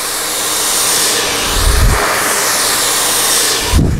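A blow dryer on its highest heat setting roars loudly and continuously, its airflow rushing with brief louder low gusts as it moves near the hair.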